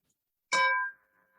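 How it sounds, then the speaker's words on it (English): A single meditation bell is struck once, a sharp bright ding that rings briefly and fades into a faint lingering tone, thin and quiet as if heard over a video call. "It's a lovely bell sound,"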